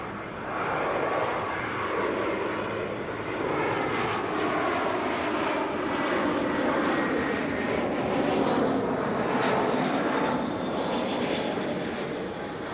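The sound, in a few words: Jetstar airliner arriving from Sydney at Auckland Airport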